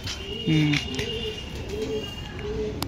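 Pakistani pigeons coo in a loft, a few soft low coos close by, one louder burst early on, over a quiet background with faint talk.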